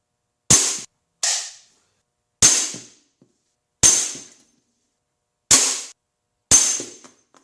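A Beeman P17 air pistol fires at targets in a garage: six sharp, loud, close cracks, each fading quickly, spaced irregularly about a second apart with silence between and no talk.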